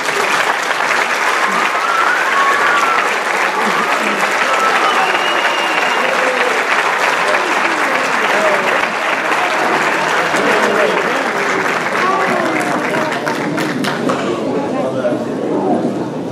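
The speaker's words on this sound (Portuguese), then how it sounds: "vamos então dar uma salva de palmas e dar muito carinho ao nosso bailinho" Sustained audience applause welcoming a folk dance group (bailinho) arriving at an evening performance, dense steady clapping throughout with crowd murmur mixed in, fading slightly at the end.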